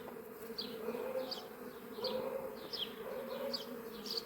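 Honeybees buzz steadily around hive frames at an apiary in Yevlax, a dense close drone with repeated brief higher whines as individual bees pass near, continuous and without talk.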